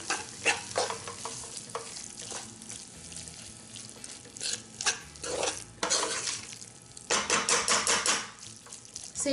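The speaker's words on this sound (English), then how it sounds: "And I give that a quick mix in." Faux lamb curry given a quick stir in a pan, with wet scraping and clattering strokes in uneven bursts over a soft sizzle, close and fairly loud with no voices.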